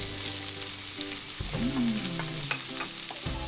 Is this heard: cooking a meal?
yes